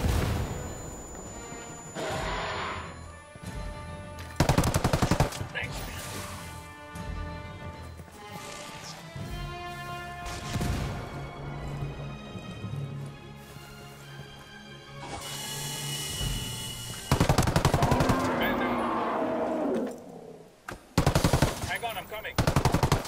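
Gunfire in the Ghost Recon Wildlands shooter game: loud bursts of automatic weapon fire and single shots, with impacts and crashes scattered through a busy battle soundscape.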